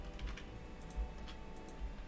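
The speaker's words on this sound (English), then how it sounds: "I see you typing in there, Poncho." Keyboard typing, faint and steady, with a soft clatter of keys and a few heavier taps spread through the moment.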